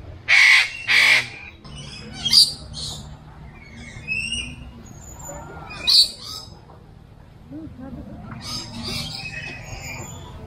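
Loud, harsh bird caws ring out repeatedly at a zoo in Carmen, Cebu, a couple of strong calls up front, then scattered squawks and chatter from several birds at varying distances.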